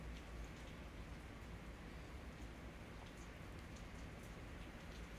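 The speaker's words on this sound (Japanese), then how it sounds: "雨の音いい感じ。" Rain falling steadily, a soft even hiss of drops on surfaces with faint pattering, distant and quiet with no voices.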